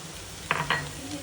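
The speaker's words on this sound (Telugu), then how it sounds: "2 నిమిషాలు వేగనివ్వాలి." Vegetables for veg pockets cooking in a pan, a soft quiet sizzle under two brief bright scraping stir strokes close by, no voices.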